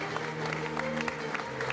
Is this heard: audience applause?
yes